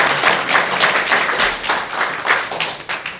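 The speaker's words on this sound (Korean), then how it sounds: "우리 박수로 한번 환영할까요?" Church congregation clapping in welcome for visiting members of a sister church, a steady, dense patter of many hands filling the room for several seconds.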